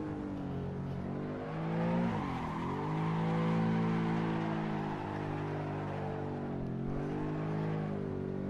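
A BMW drifting in the Assetto Corsa racing game, its engine droning steadily through sweeping pitch bends while tire squeal rises and falls in a continuous sideways slide.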